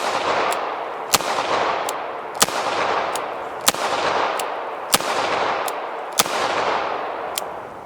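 An S&W Model 632 J-frame revolver fires Remington 95 grain semi-wadcutter .32 H&R Magnum rounds outdoors, six loud sharp shots at an even pace about every 1.3 seconds, each followed by a long reverberating echo, with fainter shots from elsewhere between them.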